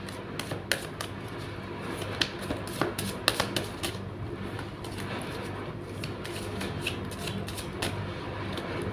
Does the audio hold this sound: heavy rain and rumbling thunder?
no